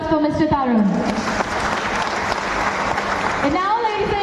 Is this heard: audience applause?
yes